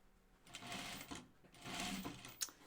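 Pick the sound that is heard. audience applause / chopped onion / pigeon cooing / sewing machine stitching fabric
sewing machine stitching fabric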